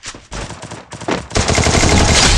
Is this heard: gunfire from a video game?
yes